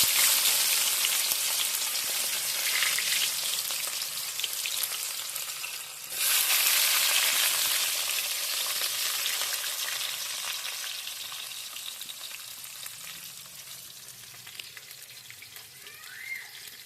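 Onions fry in hot oil in a pan for a semolina-coated fish curry, giving a loud, steady close-up sizzle. It surges briefly near the middle as they are stirred, then eases gradually to a softer hiss.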